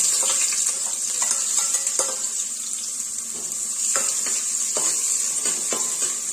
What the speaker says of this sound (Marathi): इथे आपण घालणार आहोत बारीक कट केलेला कांदा